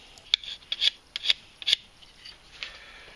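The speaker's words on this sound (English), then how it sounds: "After that, I just scrape off some of the leftover residue and we're good to go." Leftover gasket residue being scraped off an engine head, a handful of short, sharp rasping strokes at close range with brief pauses between them.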